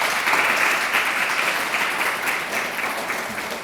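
Sustained applause from a lecture audience in a hall, a dense steady patter of many hands clapping at even loudness for the whole stretch with no voices on top.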